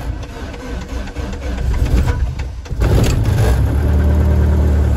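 A Zenair Alarus light aircraft engine turns over on a cold start, a loud rough churning that catches halfway through and swells into a steadier, heavier roar, heard close up with no talk.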